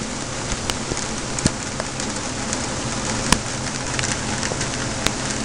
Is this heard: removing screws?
no